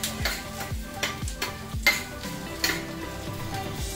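Pea eggplants sauté in a pan with a steady sizzle of frying, while a spoon scrapes and stirs in a regular rhythm of knocks against the pan, close and moderately loud with no talking.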